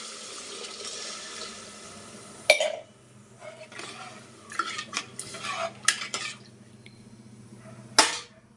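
Water is poured into a pot of egg biryani, with sharp metallic clanks of a vessel against the pot and bursts of splashing and pouring, heard close in a quiet kitchen.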